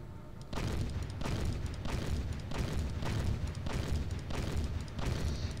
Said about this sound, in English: the turret is clearly shooting through the terrain and destroying the vessel